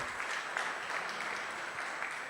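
A crowd at an evening car-award event applauds the trainers of a national driving academy. The clapping is steady and sustained, with a light hum underneath.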